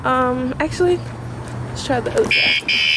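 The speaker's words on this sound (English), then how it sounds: "That's my alarm." A Harley Road Glide's motorcycle alarm chirps in loud, steady electronic tones, first as a descending series of beeps and later as sustained high warbling bursts, with someone talking between them.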